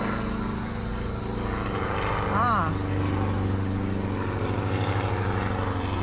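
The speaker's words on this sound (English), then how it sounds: "oh, we got a helicopter too" A steady, loud helicopter rotor drone fills the background from overhead while a person briefly exclaims, the thumping engine holding constant throughout.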